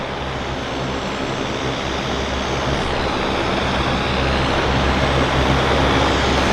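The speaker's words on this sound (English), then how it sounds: "That Caravan is one noisy airplane." A Cessna Caravan propeller plane at Vancouver Harbour, a loud, steady engine drone with a low rumble that holds and swells slightly, alone with no talk.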